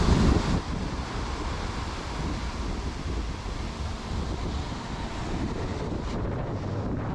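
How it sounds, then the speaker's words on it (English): Strong wind buffeting the microphone on a beach by the ocean while land-based salmon fishing, a loud, continuous roar with surf rumbling beneath it, no voices. "The wind was really starting to pick up and the temperature was rapidly dropping."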